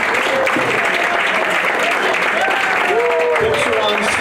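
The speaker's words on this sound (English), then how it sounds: "Good round of applause for Rehearsal Club." Steady, full applause from a seated audience at the Lambs for the Rehearsal Club storytellers, continuous clapping with faint voices mixed in underneath.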